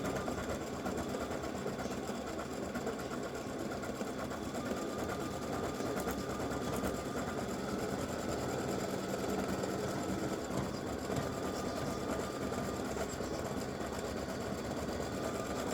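An embroidery sewing machine stitches a satin stitch on freestanding lace, a fast, steady mechanical chatter with a rapid repeating needle rhythm that runs continuously and close up, with no voices.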